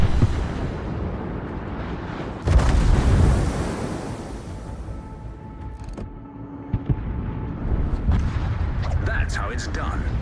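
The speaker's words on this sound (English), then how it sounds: "Concentrate fire on that enemy warship." Warship guns fire in the naval battle game World of Warships, with a heavy booming blast followed by rumbling low tail, a second sharper report later, all under continuous game ambience.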